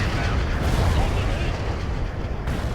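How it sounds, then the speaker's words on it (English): Artillery fire in the video game World in Conflict, a continuous heavy rumble of booms and blasts rolling together, loud and dense, with a voice faintly mixed in. "More artillery."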